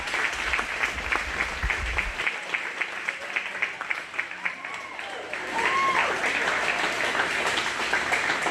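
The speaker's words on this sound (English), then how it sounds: "Go ahead and give all these girls a big round of applause." An arena crowd at a 4-H/FFA sheep show gives the girls steady, sustained applause with scattered claps and some background voices, holding at a fairly even level throughout.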